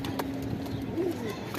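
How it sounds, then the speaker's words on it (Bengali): Newly bought pigeons in a loft give a soft, low, drawn-out coo, heard close and briefly over a faint background. "এই যে এগুলো হইতাছে আমাদের নতুন পেয়ারের কবুতর"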